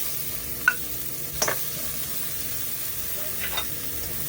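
Onions added after ginger sauté in a pan while cooking tilapia: a steady low sizzle with a few brief scraping stirs and light clinks.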